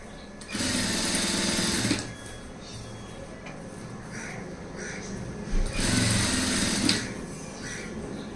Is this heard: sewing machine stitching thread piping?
yes